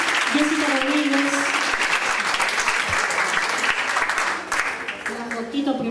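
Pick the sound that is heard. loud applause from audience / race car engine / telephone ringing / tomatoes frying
loud applause from audience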